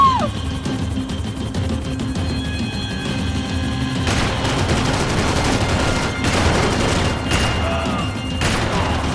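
Gunfire in the action game Max Payne 3 during a chase, with dense rapid shots and louder crackling bursts over a constant loud engine and wind-like roar, busy and close throughout.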